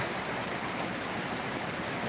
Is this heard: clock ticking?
no